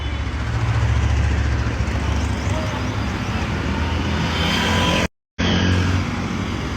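A Harley-Davidson motorcycle engine rumbles loud and close in a steady low throb, broken by one brief dropout before the rumble resumes.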